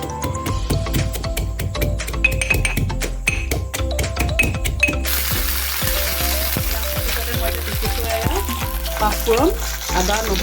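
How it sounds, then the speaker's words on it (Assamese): Panch phoron, ginger, garlic and chili go into hot oil for an Assamese pork curry: a run of sharp close taps, then a loud, continuous sizzle bursts up and carries on. "পাঁচফোৰণ, আদা, নহৰু, জলকীয়া এই গোটেইকেইটা মই এতিয়া একেলগতে পিচি দিওঁ।"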